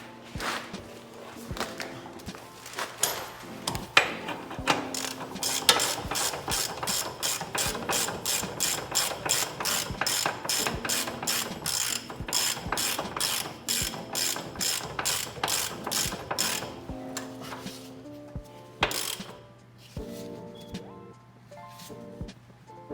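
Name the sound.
ratchet tightening car subframe bolts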